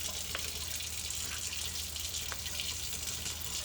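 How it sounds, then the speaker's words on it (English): Water being poured into a thick bacalaitos batter while cooking Puerto Rican street food, a steady faint hiss and trickle that runs continuously throughout without any talking. "We're gonna add a little bit more water."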